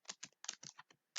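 Quick keystrokes on a computer keyboard while writing code for a Laravel app, about nine crisp close clicks in an uneven burst.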